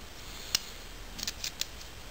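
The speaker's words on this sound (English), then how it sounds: "some scissors," The scissors of a Leatherman Wave multitool are opened, giving a few faint, close metallic clicks and snips against quiet background hiss.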